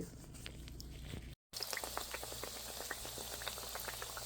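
Padma goja dough sizzles and bubbles quietly in hot frying oil, a steady fine crackle with a brief gap partway through.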